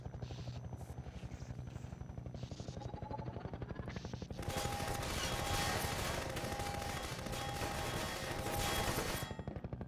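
Garry's Mod gunfire, at first a quieter pulsing rattle, then after a few seconds a loud, dense stream of rapid shots that runs almost to the end before dropping away.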